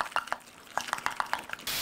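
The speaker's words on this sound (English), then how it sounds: "Mix the batter really well." Pancake batter of flour, milk and eggs is mixed with quick, faint wet clicks and sloshy taps of a utensil in a bowl, irregularly spaced and close by.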